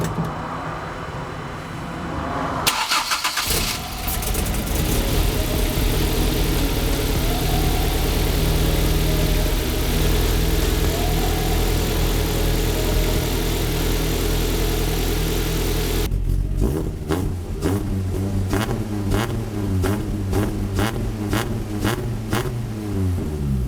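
A modified Ford Fiesta ST with power upgrades fires up for the first time, its engine catching, then holding a loud steady high rev before dropping into a choppy, pulsing idle, close and alone without talk.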